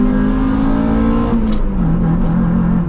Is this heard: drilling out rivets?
no